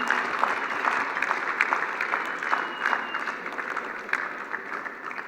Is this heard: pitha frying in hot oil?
no